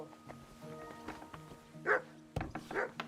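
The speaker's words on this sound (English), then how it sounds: "What are you barking like that for?" Dog barking in Kingdom Come: Deliverance II, a few sharp barks and yips in the middle distance over low game ambience.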